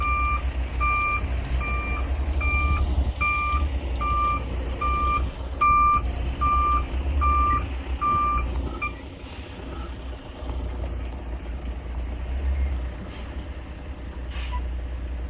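A truck backs up at a foundation backfill job site, its reversing alarm giving a regular series of loud beeps over a rumbling diesel engine. The beeping stops partway through, then an air brake hisses and the engine idles on.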